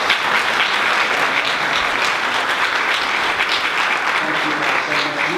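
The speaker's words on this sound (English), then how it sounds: "Would you all give our panelists a round of applause?" Loud, dense applause from a workshop audience for a panel at an HBCU pre-law student loan debt event, a continuous wash of many hands clapping, with faint voices creeping in near the end.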